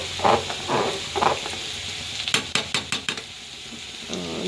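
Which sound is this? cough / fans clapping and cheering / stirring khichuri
stirring khichuri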